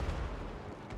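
Dwarf Thunderers fire their guns in a Total War Warhammer battle, a dense rumbling volley of booming shots blending into a continuous roar over one second, loud and close.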